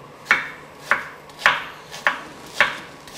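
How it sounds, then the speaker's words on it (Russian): Knife slicing an onion into half rings on a board, six evenly spaced crisp chops about half a second apart, close and clear with no talking. "вот мы так нарежем полукольцами, потому что в салате это будет как бы красиво"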